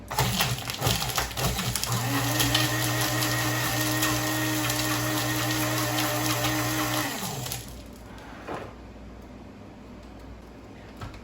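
A blender whirs steadily while mixing a low carb shake, a loud motor hum holding for about five seconds before spinning down and stopping, leaving faint room noise and a small clunk.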